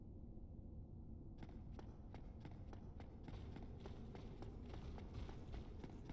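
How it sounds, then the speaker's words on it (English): Armored footsteps in the video game Dark Souls: Prepare to Die start after a short pause and continue as a quick, regular run of soft thuds and clacks, fairly faint and alone. "You can hear my footsteps, but are powerless to do anything about it."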